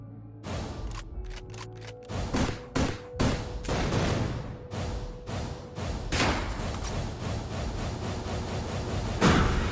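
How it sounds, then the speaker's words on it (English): Supporting sniper fire in the game Deadbolt: a string of sharp gunshots, sparse at first then coming in quicker bursts, ringing out over a low droning atmospheric backdrop. "the candles that we helped in the last level are giving us supporting sniper fire"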